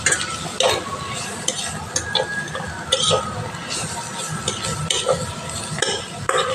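Garlic chilli powder stirred into frying cabbage, a loud close sizzle under steady scraping stirs, with metal spoon clinks against the pan throughout.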